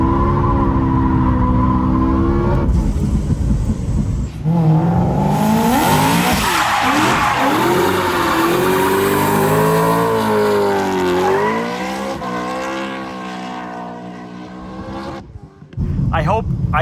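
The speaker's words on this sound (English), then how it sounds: "Clutch kick. Drift, drift, drift, drift," A car drifting after a clutch kick sends out loud, sustained tire squeal that rises and sweeps in pitch under a revving engine, lasting many seconds before it fades and stops abruptly.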